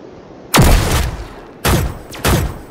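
Three heavy gunshot bursts ring out during a Roblox video game boss fight, each a loud sharp blast with a decaying tail, the first long and the next two closer together.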